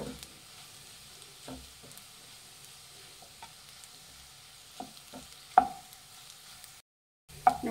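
Bread egg bhurji being stirred in a frying pan: soft scraping strokes and light sizzle at low level, with a few sharper utensil knocks and a brief silent gap near the end, no talking.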